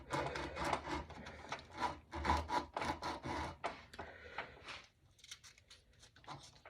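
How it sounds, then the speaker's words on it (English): A rifle barrel's muzzle crown is hand-sanded with 100 grit sandpaper, producing close, rhythmic rasping strokes in quick back-and-forth bursts that grow lighter and sparser toward the end. "we're going to start with the 100 grit on the bore, on the muzzle rather"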